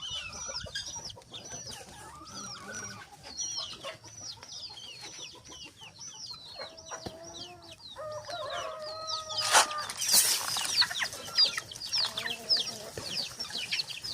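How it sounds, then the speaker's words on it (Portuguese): Farm chickens and ducks cluck and call at feeding time on a rural smallholding, a busy chorus of overlapping squawks and clucks nearby, louder bursts of flapping and calls toward the end. "é hora de cuidar dos bichos, botar comida para os patos, galinha, marreco"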